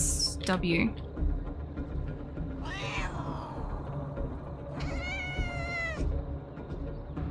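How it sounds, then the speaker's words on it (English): A cartoonish cat meows twice in the video game Copycat, rising, wavering cries standing out over a busy bed of game music and effects, with a voice talking briefly in the background. "That cat sounded pretty cute."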